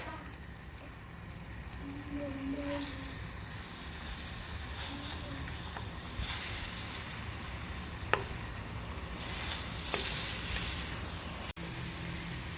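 Chicken in a pan sizzles softly as its released water cooks off before oil is added, a moderate hiss with occasional pops and scraping stirs, while a person talks intermittently over it.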